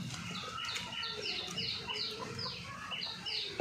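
Chickens on a poultry farm give repeated short clucks and calls over a steady background of flock noise, close and moderately loud, with no voices.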